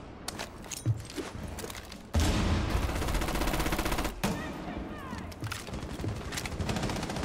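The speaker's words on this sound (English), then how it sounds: "I'm being shot at by enemies" Enemy gunfire in Rainbow Six Siege, sharp shots followed by a sustained loud burst of rapid automatic fire, then scattered shots trailing off.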